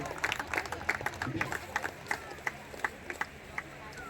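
Audience applause at a cricket premier league final for Pramilatai Patil comes as a scattered run of hand claps, moderately distant, mixed with crowd voices and talk.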